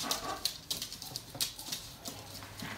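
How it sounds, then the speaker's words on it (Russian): A chihuahua puppy whines indoors, left alone in a room. Its soft, high whimpers come as a few short, faint cries over quiet room noise. "Кто скулит?"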